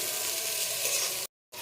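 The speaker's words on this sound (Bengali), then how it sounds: "উচ্ছেগুলো ভাজছি এবার নুন আর" Bitter gourd slices sizzle in hot oil, seasoned with salt and turmeric, giving a steady close-up crackling hiss that cuts off abruptly just before the end.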